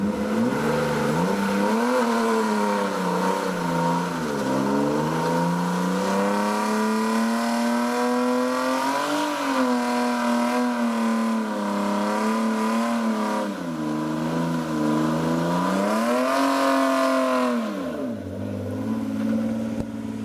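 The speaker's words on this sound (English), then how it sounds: "that was first gear, and that was dumping that clutch at like 6 grand" A BMW E36 pulls hard in first gear after a clutch dump at about 6,000 rpm, the engine note climbing and dipping through long loud revs, close and sustained for about twenty seconds with no talk.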